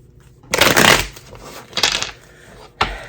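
Tarot cards riffle and slap in three quick bursts: a long shuffle, a shorter one, then a brief snap, close and loud against a quiet room.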